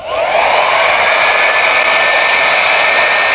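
An Arzum Volume Pro 5063 hot air brush runs on its first setting, giving a loud, steady motor whir and rushing airflow with a faint whine that holds constant throughout, close up with no talking.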